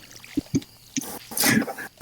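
Watering plants with a watering can in Stardew Valley: a quick series of small plopping drips is followed by a brief splashy gush of water, short and fairly close, with no voices.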